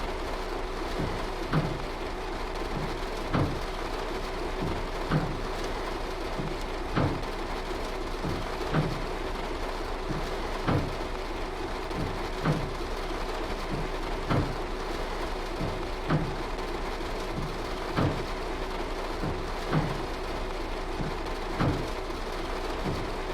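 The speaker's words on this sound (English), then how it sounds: "It sounds like rain" Steady rain hiss in a train simulator game, with regular soft ticking pulses repeating about every second throughout, even and moderately quiet with no talking.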